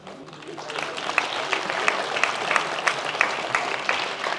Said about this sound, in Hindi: ये तो मौका मिल गया आपको ताली बजाने का